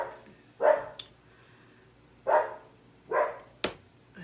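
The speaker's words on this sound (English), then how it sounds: "Let's wait until she stops barking." A dog barks four times at uneven intervals, each bark sharp and fairly close but moderate in volume, with quiet room tone between them and a brief click near the end.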